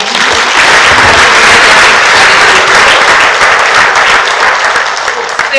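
Audience applause at a community workshop for women leaders, a loud, dense and sustained burst of many hands clapping together, close and steady for several seconds before easing slightly at the end.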